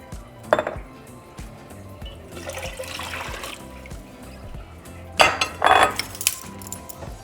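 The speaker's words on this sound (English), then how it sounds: "to that we're going to add about 10 cups of water" Water pours into a Dutch oven pot on the stove: a splashing stream near the start, a longer steady pour in the middle, then a louder burst of gushing and metallic clatter toward the end.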